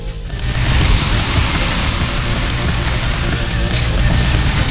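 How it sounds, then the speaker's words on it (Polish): Steady rain in the racing video game NFS Heat, a loud continuous hiss with low rumbling engine-like noise underneath, starting just after the beginning and holding evenly to the end, no talk. "O, deszcz mi powinien trochę pomóc."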